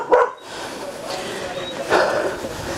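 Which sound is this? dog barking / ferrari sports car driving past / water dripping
dog barking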